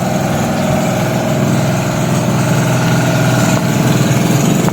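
A loud engine runs steadily at idle, a constant low rumbling hum with mechanical vibration, no voices over it.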